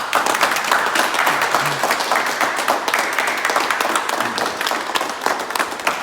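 A crowd claps steadily and loudly throughout, a dense continuous patter of applause with occasional cheers, celebrating the delivery of a new car.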